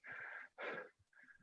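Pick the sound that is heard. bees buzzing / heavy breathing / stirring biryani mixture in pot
heavy breathing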